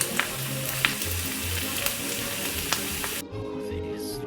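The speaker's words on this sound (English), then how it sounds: "Oh, the beautiful, sizzling, hot steaks." Beef steaks sizzle hot on a grill, a dense, steady crackling hiss with occasional sharp pops and spits, close up and continuous with no voices.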